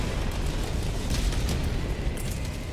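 An orbital strike in Helldivers 2 lands as a loud, sustained roaring rumble, a dense, steady wall of blast noise with no breaks.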